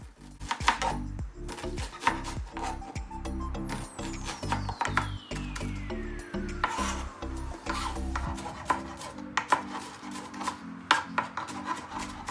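Half an onion is chopped finely with a knife on a cutting board: a quick, irregular run of crisp taps and scraping strokes, close and fairly loud, continuing throughout.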